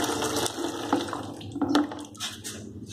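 Water runs from a tap to draw hot water for a bath, making a fairly quiet, uneven splashing stream with a few brief louder spurts over about three seconds.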